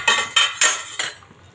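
A metal lid set over a cooking pot holding fish curry with green banana, four sharp clanks in quick succession, close and fairly loud, then a short quiet tail.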